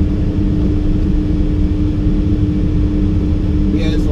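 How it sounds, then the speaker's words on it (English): A steady, loud low engine rumble idles continuously throughout, like a large truck running nearby, with no speech over it, at a topsoil hauling site. "the first truck of the day is here."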